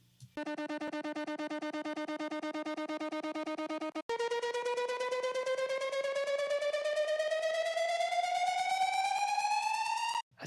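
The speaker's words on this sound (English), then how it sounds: "And then I have this fill riser type of sound too." A synth riser fill made in FL Studio: a bright buzzy tone holds steady, breaks off briefly, then climbs slowly and continuously in pitch for several seconds before cutting out, loud and alone.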